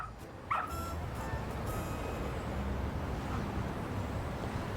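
Rampo the dog from the video game Lost Judgment gives a single short bark early on, fairly quiet over a steady low background hum.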